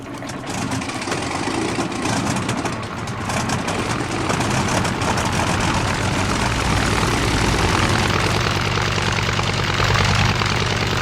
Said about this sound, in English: Potato fueled plane.